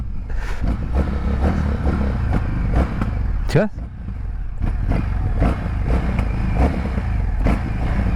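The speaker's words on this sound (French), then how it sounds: "Et ce moteur il rugit hein." Indian FTR Sport motorcycle engine running loud and close, with a throaty rumble and blips of revving, while someone talks over it throughout.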